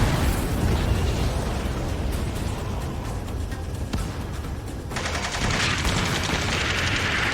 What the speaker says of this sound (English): Strider 1, missile launched.